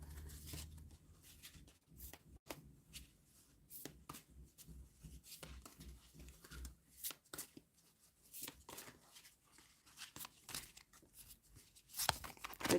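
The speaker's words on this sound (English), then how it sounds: "Try to shuffle very well because this is a new deck" A new tarot deck is shuffled in quiet, rapid papery taps and clicks that run on continuously at low volume, close by.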